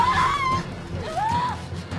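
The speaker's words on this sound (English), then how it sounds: "the scream that Sydney lets out" A woman's shrill scream from the horror film Scream 4, rising and falling in two drawn-out bursts over a rumbling movie soundtrack.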